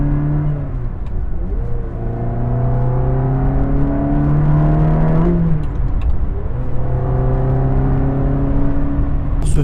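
A Ferrari 360 Modena with its new aluminium V8 pulls through the gears, its exhaust note rising in pitch with each upshift, loud and steady with no voices.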